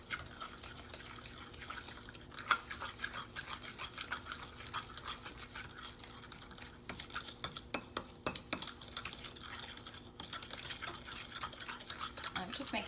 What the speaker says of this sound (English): we are creaming together this butter and the 2 kinds of sugar